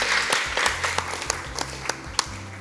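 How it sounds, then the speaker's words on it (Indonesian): Audience applause at the close of a segment in a theology quiz-show competition between two teams, a steady mid-level patter of clapping with a few sharper individual claps standing out, and no talk over it. "Mari kita beri tepuk tangan yang meriah."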